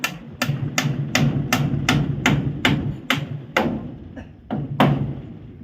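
Hammer striking nails into roof framing in a steady rhythm, about a dozen sharp close blows spaced roughly half a second apart, with a brief pause before the last two.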